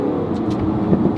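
Aston Martin Vantage with a single-clutch gearbox driving on the road, its engine drone steady and close with a brief dip and rise as a gear change passes.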